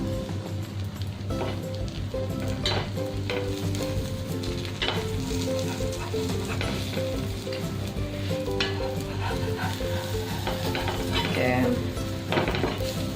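Cheesy bread omelette sizzling in a pan over a medium flame, a constant close frying crackle with occasional clinks and scrapes of a utensil against the pan.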